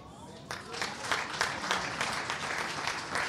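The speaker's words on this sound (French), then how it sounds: "Vos applaudissements sont timides." Modest applause from a gathered crowd at a memorial celebration of life, a sparse but steady patter of clapping that starts abruptly and continues evenly, with some voices mixed in.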